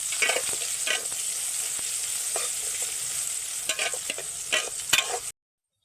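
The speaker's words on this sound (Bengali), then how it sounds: "এই সময় পেঁয়াজ কুচিটা দিয়ে দিচ্ছি পেঁয়াজটাকে খুব সুন্দর লাল লাল করে ভেজে নেব" Chopped onion frying in hot oil with cumin and dried red chilli, a steady close sizzle with repeated scraping stirs that break through the hiss, then cutting off abruptly near the end.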